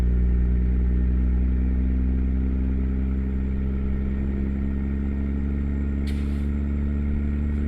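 A heavy truck engine in American Truck Simulator rumbles steadily at a low, constant drone while driving an Australian outback highway, with a brief hiss near the end and no talking.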